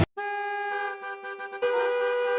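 Car horns honking in a steady sustained blare, a couple of overlapping horns sounding together, loud and close, with a brief dip before a second horn joins in.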